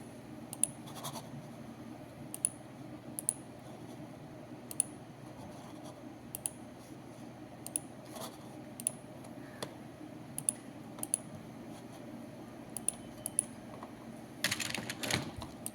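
Sparse, sharp keystrokes on a computer keyboard tap out faintly and irregularly while entering text into an Excel sheet, with a denser flurry of clicks near the end against a quiet background hum.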